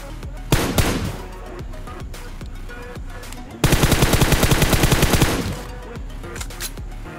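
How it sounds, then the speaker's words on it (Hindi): M249 gunfire in PUBG Mobile crackles in a brief early volley, then a sustained rapid automatic burst of about two seconds, loud and close, amid other faint game sounds. "तो यहाँ पर मैंने M249 से कुछ शॉट मारे पर वे नॉक नहीं हुआ"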